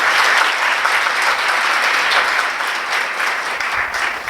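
An audience at a Hindi poetry recital (kavi sammelan) breaks into strong, sustained applause, a loud, dense wash of clapping that holds steady and tapers slightly toward the end.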